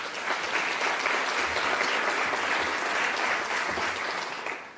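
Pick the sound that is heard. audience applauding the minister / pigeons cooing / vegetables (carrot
audience applauding the minister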